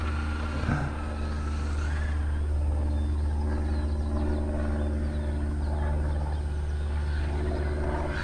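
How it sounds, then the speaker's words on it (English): A Traxxas 1/7 UDR radio-controlled truck on a 3s-4s battery setup drives past, its electric motor making a steady mid-pitched whine and rumble that swells and fades with the throttle, with no talk over it. "Comes the Traxxas truck again, driven by Gary Baldwin"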